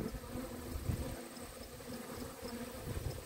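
Bees drinking at a pond make a steady, close insect buzz that hums on without a break, with no voices over it.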